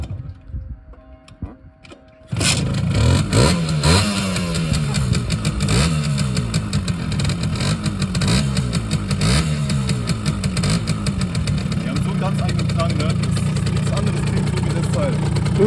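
A Simson S51 moped with a leaking header pipe to a damaged middle muffler is kick-started, then its two-stroke engine rattles and revs loudly before settling into a steady, ticking idle, close by, with brief talk before it starts.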